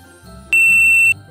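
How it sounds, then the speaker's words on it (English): A single sharp, high-pitched electronic beep from a Cameleon CK 710 receipt printer lasting about half a second, loud and close over a low background hum. "If the printer beeps,"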